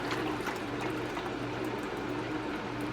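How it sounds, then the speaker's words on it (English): Hot water is poured through a VEVOR commercial slushy machine with a food-grade polycarbonate tank to rinse it, giving a steady, dense, continuous wash of liquid noise close by. "basically you're just putting water in until"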